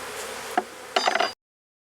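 Honey bees near a hive box give a brief, faint, steady hum, and a few sharper, louder buzzing passes come close by in quick succession before the sound cuts off.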